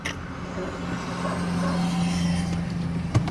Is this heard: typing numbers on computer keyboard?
no